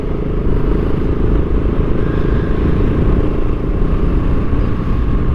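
A BSA Goldstar 650 motorcycle on a demo ride gives a loud, steady engine rumble with road and wind noise throughout, close to the rider.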